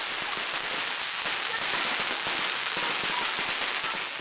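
Firecrackers blaze on a Qiaolin fire dragon, a paraded dragon studded with fireworks and carried by running bearers at a centuries-old night festival; a dense, continuous crackle of rapid pops stays loud and unbroken throughout, with no voices.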